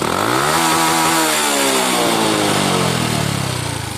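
A Honda Wave 110 motorcycle engine revs hard and loud, pitch climbing and falling as the throttle is twisted, with a buzzy, rasping exhaust throughout.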